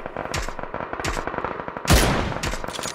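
Gunfire in PUBG, a few loud close bursts of rapid automatic shots with sharp cracks and short echoing tails, one especially heavy blast near the middle.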